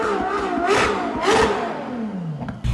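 A Ferrari supercar, not a naturally aspirated V12, revs hard nearby in a couple of rising and falling bursts, its tone sweeping up and then dropping away before a sharp cut at the end.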